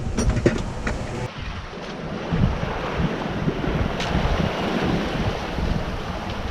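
Strong following wind and rushing waves surround a Contessa 26 sailboat running downwind at sea, with constant buffeting wind noise on the microphone and rolling surf washing steadily around the hull.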